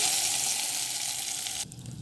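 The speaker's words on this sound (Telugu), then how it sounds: "దోసకాయ చట్నీలోకి తాలింపు యాడ్ చేసుకుందాం" Hot tempering is poured into cucumber chutney and gives a steady, loud sizzle. The crackling hiss runs for under two seconds, then cuts off abruptly and leaves quieter background sound.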